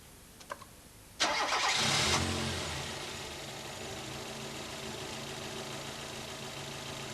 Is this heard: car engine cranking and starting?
yes